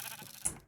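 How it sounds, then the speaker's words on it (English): A sheep in Minecraft gives one short, fairly faint bleat that rises briefly and fades, heard alone with no talking. "What the hell is that sheep doing in my end portal?"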